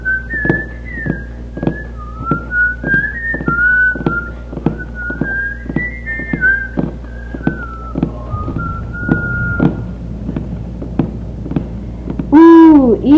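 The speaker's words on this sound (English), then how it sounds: "I'll whistle to keep our courage up." A wavering, tuneful whistled melody carries on steadily, with a soft rhythmic thudding like hoofbeats beneath it, ending in a brief rising swoop.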